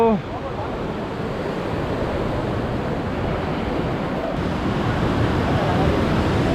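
A constant broad roar of falling water sounds at the base of Kalu Falls, steady and dense throughout, with the wind buffeting the microphone and no clear voices.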